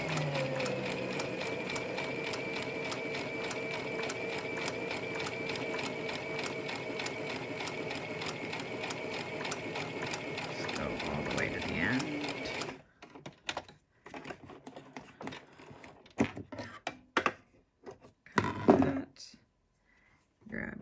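Sewing machine stitching a cable-tie reinforced fabric face mask along a curved edge, a fast steady mechanical rattle running for about twelve seconds, then stopping and leaving scattered quieter handling clicks and taps.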